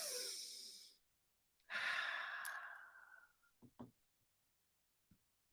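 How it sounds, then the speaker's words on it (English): Two deep breaths during a guided affirmation session: a long, loud exhale, a pause, then a second full breath that tapers off, followed by a few faint, short breathy puffs near the mic. "Breathe."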